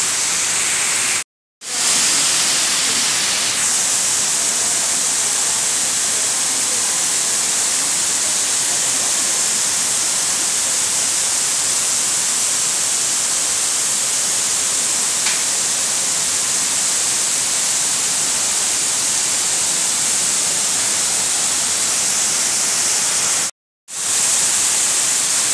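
Rushing water at the Salto Ventoso waterfall, a loud, steady broadband roar that fills the scene without pause, briefly cut out twice.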